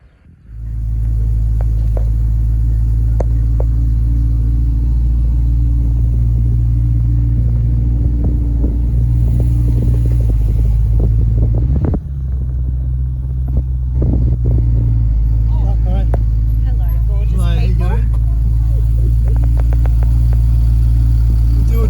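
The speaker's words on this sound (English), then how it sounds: "We'll just do a slow drive-by and then we'll wait for her out on the street." Stretch limousine rolling slowly past on a street, a steady low engine rumble that holds for about twenty seconds with faint scattered background sounds and no talking.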